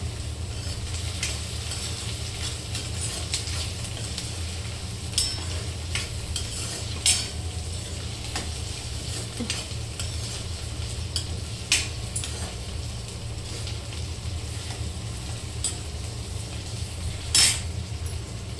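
Tomatoes sizzle steadily in a hot frying pan for a head-meat curry while a utensil stirs them, with scattered clinks against the pan over a constant frying hiss and no talk.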